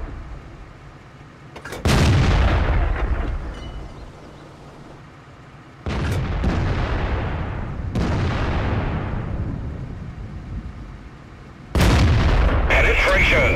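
Tank cannon shots in a tank video game boom out in four heavy, loud blasts spaced a few seconds apart, each with a long rumbling decay, while a voice speaks between them.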